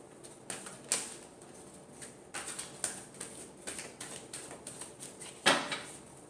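Tarot cards are shuffled close by: a series of crisp, irregular flicking snaps, with a sharper slap near the end, in an otherwise quiet room.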